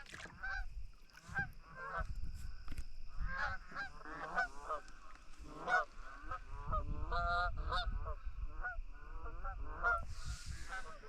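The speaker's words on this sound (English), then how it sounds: "There go the geese." Geese honk repeatedly in a noisy, overlapping chorus on a pond, fairly close, with a low rumble underneath and a brief rustle near the end.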